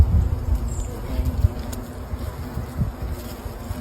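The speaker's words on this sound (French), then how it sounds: "il n'y a pas que des frelons, il y a des guêpes de tout" Insects buzz steadily at close range, a dense low drone of hornets, wasps and some bees, with occasional louder passes near the ear.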